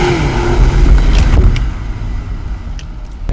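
A Hyundai Ioniq in sport mode pulls away from a stop, a low road and drivetrain rumble that swells briefly and then eases off, with a few faint clicks and rattles from the cabin.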